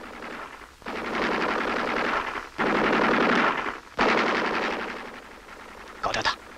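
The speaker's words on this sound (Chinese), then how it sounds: "这是敌人值班机枪" Enemy machine gun on duty fires in a 1960 war film, long sustained rattling bursts separated by brief pauses, loud and close, with a short final burst near the end.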